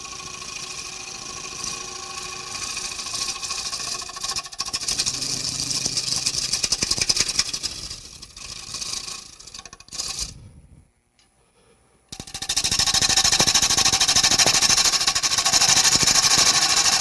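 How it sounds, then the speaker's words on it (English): Wood lathe spinning while a bowl is turned, a steady mechanical hum with gritty tool scraping that fades and drops to near silence briefly before a strong, even whir resumes. "Now we'll turn the lathe off and move this over here."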